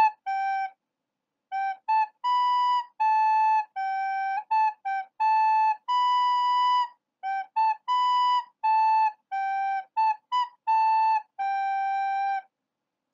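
A recorder plays a simple melody during a fourth-grade lesson: clear, pure breathy notes in short phrases with brief pauses between them, some held longer, played alone and up close without talk.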